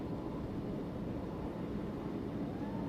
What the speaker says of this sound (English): There goes our pace plane, Tommy.